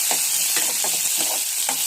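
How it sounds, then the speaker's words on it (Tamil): Chopped onion, green chilli and raw mango sauté in a hot pan for prawn gravy, a continuous bright sizzle with repeated rhythmic scrapes of a spoon stirring, close and steady with no voices. "இதில் பச்சை மிளகாய் சேர்த்ததுக்கப்புறம் மாங்காயும் சேர்த்து நல்லா வதக்கிடுங்க."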